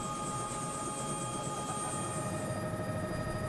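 A helicopter in flight over Australian cattle station country makes a steady droning hum with a whining rotor tone, constant and moderately loud throughout, heard from inside the cabin without any voices.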